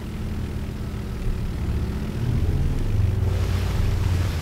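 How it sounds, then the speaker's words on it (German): A seaplane touches down on water in Microsoft Flight Simulator, a low engine rumble and rushing wind swelling into a heavier, louder wash of water spray as the hull settles onto the surface. "Ich würde sagen, wir machen eine schöne Wasserlandung."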